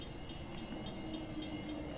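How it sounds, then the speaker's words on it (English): A train arrives at a suburban railway station platform, a steady close rumble with a faint rhythmic clatter and no talking. "So here comes our train."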